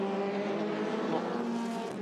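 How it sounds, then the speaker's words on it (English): Formula Renault 2.0 race cars roar at Hockenheim, a sustained, loud, high-revving engine wail that holds steady and full for the whole two seconds, with faint commentary underneath. "what he's wanting to do is just harry and worry the Bartlomei Marecki car ahead"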